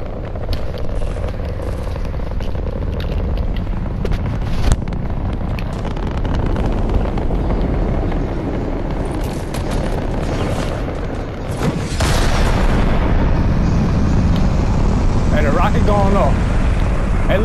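A rocket launch event in the video game Fortnite, a low rumbling roar with wind-like noise that swells sharply partway through and stays loud and sustained, with a voice talking briefly over it.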